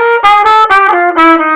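A short bebop line played over a V7 chord, a quick run of distinct separate notes with clear pitch steps, loud and close, with no talk over it.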